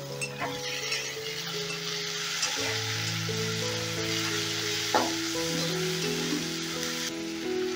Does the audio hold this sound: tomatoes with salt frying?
yes